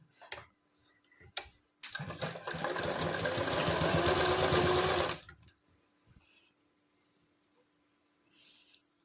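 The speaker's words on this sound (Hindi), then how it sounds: "हम इस पर सीधा मशीन से सिलाई लगा देते हैं।" A sewing machine runs a straight line of stitching along a blouse belt strip in one steady three-second burst, with a few light clicks before and after it.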